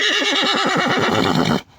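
A loud, close horse whinny with a rapid quavering pulse, lasting over a second before cutting off abruptly.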